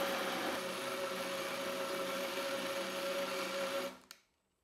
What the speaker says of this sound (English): Now the immersion blender is kind of a perfect tool here.